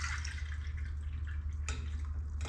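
Water poured into a cooking pot for a Filipino Christmas dish, a short trickling splash over a low steady hum, with a brief louder burst near the end.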